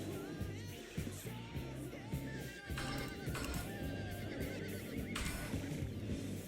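A horse in the online role-playing game Ultima Online neighs and whinnies repeatedly, with hoof clip-clops, heard fairly clearly over game sounds.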